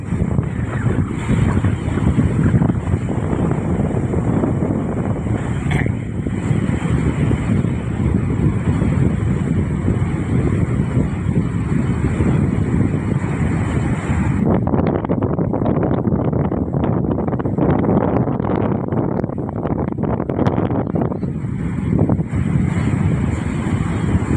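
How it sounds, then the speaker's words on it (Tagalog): Strong, gusty typhoon wind roars and buffets the microphone continuously, with a constant loud rushing noise and no voices. "So lakas talaga ng hangin."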